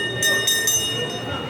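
A small ride train rolls past inside an SM shopping mall with a short, close rumble of wheels and a few bright metallic squeals or chimes. Mall background noise and faint voices sit under it.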